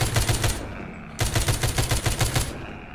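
Rapid bursts of gunfire from the zombie shooter The Walking Zombie 2, loud and close: about a dozen evenly spaced shots, a short pause near the middle, then a second run of regular shots.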